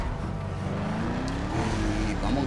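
An SUV, a Jeep Grand Cherokee, drives in GTA RP, its engine droning steadily and loudly throughout with a rising tone, under faint background game sounds.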